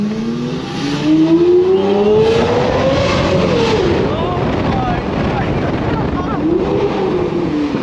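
A Lamborghini Aventador engine revs and accelerates in rising and falling sweeps, loud and close from inside the car, with a continuous roaring drone underneath.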